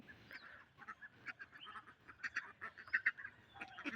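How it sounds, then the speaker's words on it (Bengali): Native village ducks in rural Bangladesh quack and honk in a busy, overlapping flock, with repeated nasal calls rising and falling close by and a few louder bursts toward the end. "এই যে দেখেন গ্রামের দেশি হাঁস, যে হাঁস দেখলে পাখির কথা মনে পড়ে যায়।"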